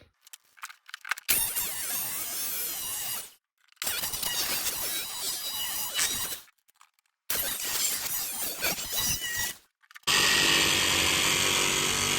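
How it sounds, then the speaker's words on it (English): A jigsaw cuts a hole in the roof of a Ford Transit Connect camper van in three loud, harsh bursts separated by short pauses, followed by a steady high whine from another source at the end. "take the jigsaw and cut this hole in the top of our roof"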